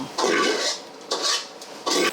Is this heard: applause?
no